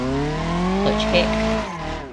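An engine revs hard and steadily as a clutch is kicked in BeamNG Drive, with a brief tire squeal in the middle, loud and close, fading slightly at the end.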